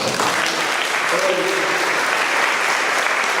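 Loud, sustained applause from an audience acclaiming God at a Catholic gathering, a dense steady roar of clapping that fills the whole stretch without pause.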